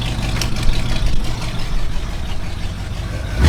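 A 1929 Ford Woody Wagon engine running, a steady low idling rumble with a constant mechanical hum, heard close and continuous without talk.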